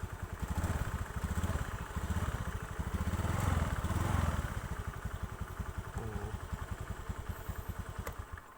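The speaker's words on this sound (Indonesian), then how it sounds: "Motor langsung menyala dan bisa langsung dipakai." A motorcycle engine running steadily at idle, a rapid chugging putter close by, with some metallic clatter and no talking.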